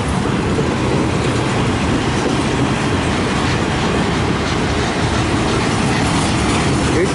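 A long CN freight train passes close by, a steady loud rumble of wagons and wheels on the rails that holds unbroken throughout with no speech.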